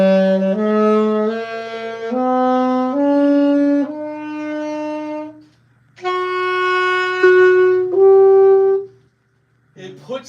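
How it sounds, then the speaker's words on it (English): An E harmonic minor scale played note by note on a single melodic instrument, clear and close, each step held briefly in a steady ascending then descending run with short gaps and a final fragment. "Here's E harmonic minor."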